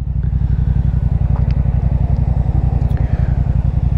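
A motorcycle on a night ride home, heard close up as a steady, loud, rumbling engine drone with constant road and wind noise and no talking.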